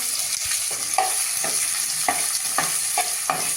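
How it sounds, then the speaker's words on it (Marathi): Finely chopped onions fry in hot oil with cumin seeds and bay leaves, a continuous bright sizzle broken by a spatula stirring and scraping roughly every half second, close and alone. "दोन मध्यम आकाराचे कांदे बारीक चिरून घेतलेले आहेत ते त्यावर घालते आहे"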